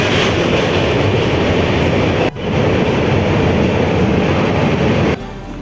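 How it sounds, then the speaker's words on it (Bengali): Passenger train rolling on rails from Kamakhya Junction toward Prayagraj, a steady loud rumble of wheels and carriage noise that continues throughout and drops off abruptly near the end. "আৰু এতিয়া আমাৰ ট্ৰেইন ষ্টাৰ্ট দিলে কামাখ্যা জংচনৰ পৰা"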